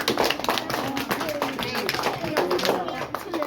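A fourth grade class of schoolchildren applauds in a classroom, a dense, lively patter of many small hands clapping continuously, mixed with children's voices chattering and calling out over it.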